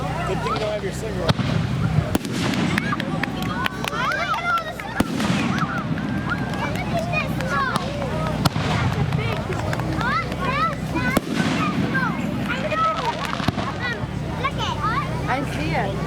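Fireworks burst at an outdoor Seneca River Day celebration, sharp booms and cracks scattered across the clip over a steady din of crowd chatter and voices talking nearby.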